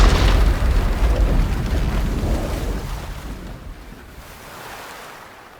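A fire ship rams and explodes against another ship in the video game Age of Empires 3, heard as a heavy rumbling roar already underway that slowly fades over several seconds.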